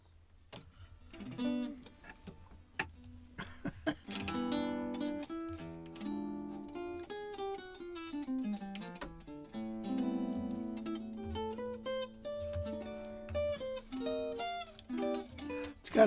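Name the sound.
Korean-made guitar played acoustically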